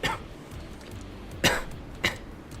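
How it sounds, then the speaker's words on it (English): Coughing from a person during a casual chatting stream: two sharp, close coughs about half a second apart, with a fainter throat-clearing sound at the start over a quiet background. "Luckily, the coughing is getting better."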